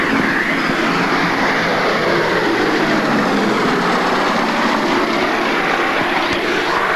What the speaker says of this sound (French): Voilà le B-17, la forteresse.